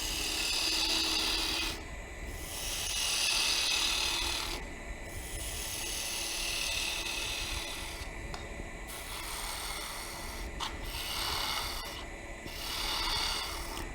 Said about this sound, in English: There's no reason why you just can't grab a skew